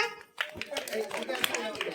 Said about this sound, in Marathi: यांच्यासाठी टाळ्या वाजवा.